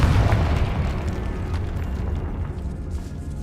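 A deep, sustained explosive boom from the Confringo blasting spell in Hogwarts Legacy, set in a catacomb, loud and rumbling throughout with a dense crackling burst at the start.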